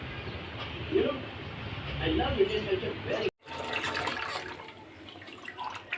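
Tap water runs while pangas fish is washed, a steady splashing stream with brief louder gushes and one short break midway, close and moderately loud.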